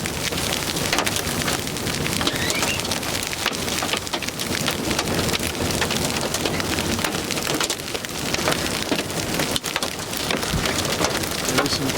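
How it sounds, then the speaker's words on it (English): Pretty good sized hail, about three-quarter inch or larger, pelting down during a derecho near Turpin, Oklahoma, a dense, loud, unbroken clatter of impacts with sharp cracks scattered throughout. "we're getting some pretty good sized hail, and there's nothing I can do to get out of it"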